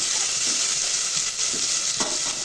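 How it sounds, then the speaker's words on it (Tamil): Large finely chopped onion frying in oil in a pan for a Kovai-style rice and lentil dish, a steady loud sizzle with a few soft stirring scrapes, no voices. "நல்லா வதங்கட்டும்"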